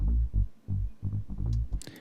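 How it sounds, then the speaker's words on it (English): Neuro stab bass synth before distortion, playing short, punchy low stabs in an uneven rhythm of about five hits, loud and dry with no voices. "One more time, this is before the distortion."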